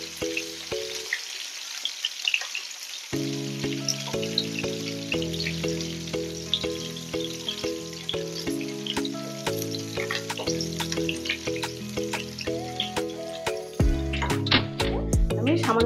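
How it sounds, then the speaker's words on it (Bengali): Pointed gourd (potol) fries in a pan with a continuous crackling sizzle and occasional stirring, heard under louder steady background music. "পটলগুলো আমার ভাজা হয়ে এসছে। এবার আমি ঢাকা সরিয়ে একটু ভালো করে নেড়ে নেব।"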